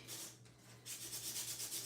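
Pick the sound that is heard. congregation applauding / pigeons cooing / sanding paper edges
sanding paper edges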